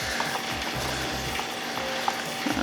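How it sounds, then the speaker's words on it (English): A whisk stirs warm melted butters for a triple-butter soap batch, a soft, continuous swishing and light sizzling scrape close at hand, alone with no voices. "Just gonna switch to a whisk for a second."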